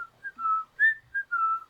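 A creepy, slow human whistle from a character in the horror game Dare You To Death: a short run of clear, separate notes rising and falling, whistled alone against near silence.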